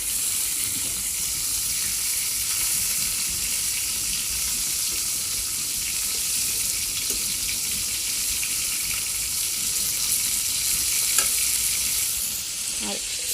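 Eggplant slices frying in hot oil give a loud, steady sizzle throughout, with occasional stirring clinks and scrapes and a brief louder clatter near the end.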